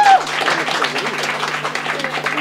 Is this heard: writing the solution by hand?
no